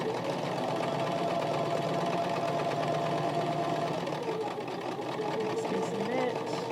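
A sewing machine stitches face mask fabric, its motor whirring in a steady, rapid clatter up close, running continuously while a voice speaks over it.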